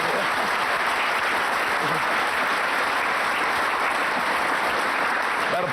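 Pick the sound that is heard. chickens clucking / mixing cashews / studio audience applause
studio audience applause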